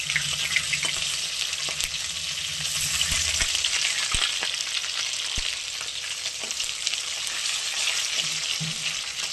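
Khoira fish fries in a pan with a steady, close hissing sizzle, a few soft clinks of a utensil breaking through as pieces are turned.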